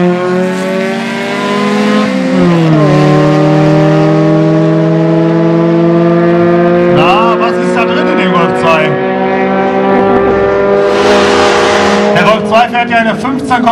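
Two cars, a Golf 2 and a 106, launch in a quarter-mile drag race at Aldenhoven, their engines revving loud and close with rising, shifting tones, while voices talk over the roar.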